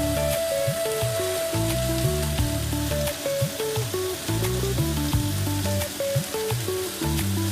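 Fish head and prawns fry in a pan with a steady sizzle, though it sits beneath loud, continuous background music with a pulsing tonal beat that dominates throughout.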